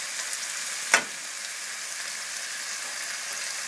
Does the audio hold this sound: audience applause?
no